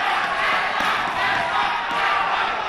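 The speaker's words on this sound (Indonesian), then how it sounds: "Silakan tepuk tangan pendukungnya." Supporters at a Jambi vice-gubernatorial debate applaud and cheer, a loud, dense wash of clapping and crowd noise filling the whole hall continuously without pause.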